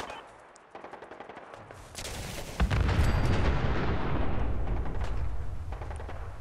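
Explosions and heavy weapon fire in the video game Fallout 4 on survival mode, a dense roaring barrage that swells into a loud sustained rumble with crackling bursts throughout, no voices.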